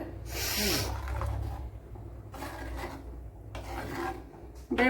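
A spoon scrapes and rasps in bursts as cucumber curry is stirred in a pan in a Kerala home kitchen, the strokes close and fairly faint, with no talking.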